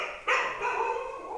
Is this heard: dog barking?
yes